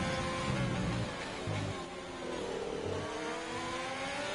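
Formula 3 race cars in iRacing at the Bahrain circuit accelerate through, a steady mid-pitched engine drone with rising gear-change sweeps and a faint voice underneath.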